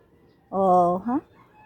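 A hen in a backyard flock gives one brief, close, two-part call against an otherwise quiet background.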